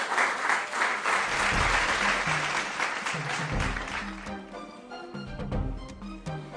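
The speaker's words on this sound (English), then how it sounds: "Round of applause for them." An audience at a junior school quiz competition claps loudly, a thick burst of applause that thins out into scattered individual claps while music plays underneath.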